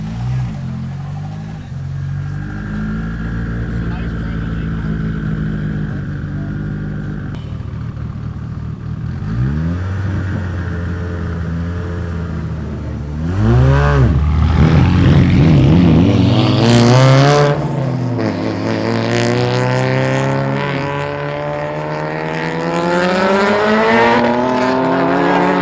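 Street cars roll racing at an Alaska event, their engines roaring loud and close, revving and climbing in pitch through hard accelerations as the cars launch and pull away.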